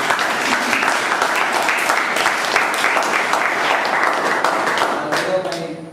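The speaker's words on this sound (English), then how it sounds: "A big round of applause to the President." Audience applause at a Toastmasters club meeting for the club president, dense steady clapping from a crowd throughout, fading out near the end.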